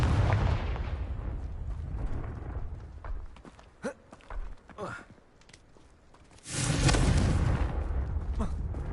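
Confringo fire spell blasts in Hogwarts Legacy, a loud rumbling boom that fades, then scattered thumps and crackles, followed by a second heavy roaring burst near the end.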